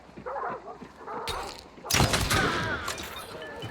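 Hip-fired gunshots in Hunt: Showdown, a 19th-century-style shooter: a soft crack followed by a louder, booming shot with a lingering echoing tail, after some quiet talk.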